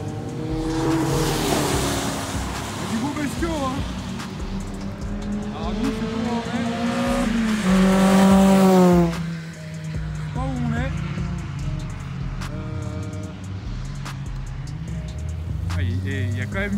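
Race cars pulling out of the pit lane at Circuit de Bresse, engines revving and rising in pitch nearby with a loud pass, while people talk over the noise.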